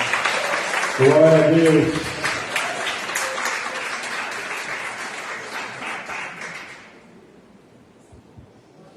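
Congregation applauding during a church service, a dense crowd clapping that holds for about seven seconds and then fades out, with a voice calling out over it near the start.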